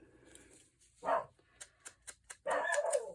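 A dog barks in a quick string of short, sharp yips and woofs, fairly close, with a louder burst of barking at the end.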